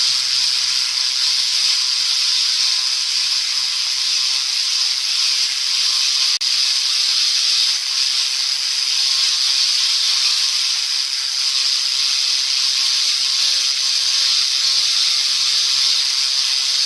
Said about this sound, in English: So just got to carefully grind back a little bit at a time to reveal the colour.